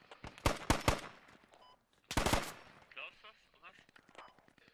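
Gunfire in the Squad video game: close, loud bursts of rapid automatic shots in two clusters, followed by quieter scattered distant shots, with a voice talking in between.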